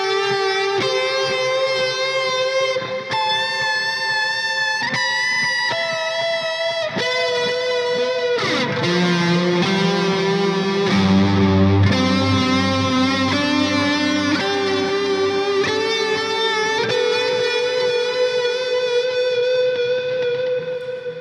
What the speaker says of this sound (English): And then with the delay and reverb, you have the complete sound here.